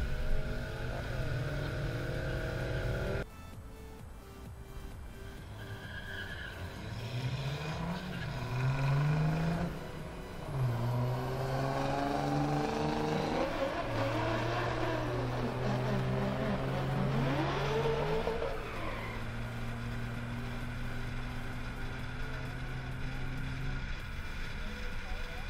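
A motorhome with a Big Block Chevy 454 V8 runs a quarter-mile drag strip, its engine revving and shifting through rising and falling gear pitches, fairly distant and moderate in level, with voices talking over it.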